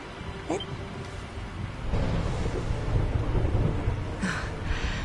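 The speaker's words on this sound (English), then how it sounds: "Would you look at it thundering away out there?" Thunder rumbling outside in the video game Dragon Quest XI, a low continuous roll that swells midway through and holds steady under faint game ambience, with no voices.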